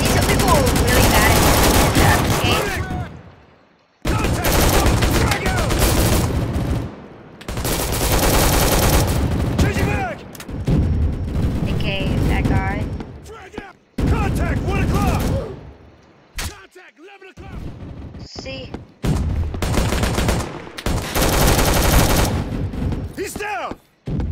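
Bursts of rapid gunfire in the Roblox game Recoil, loud and dense in several long volleys separated by short gaps, with brief sharper shots near the end.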